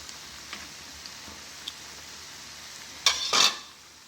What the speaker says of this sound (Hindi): हमारे फ्राई हो रहे हैं।